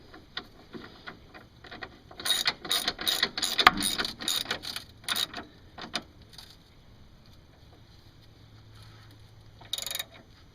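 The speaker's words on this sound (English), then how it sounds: "Tightening this 14mm bolt." A hand ratchet tightens a 14mm bolt on an engine mount of a Mercedes W202, with a quick run of close, rhythmic clicking strokes, a pause, and one final short burst of clicks.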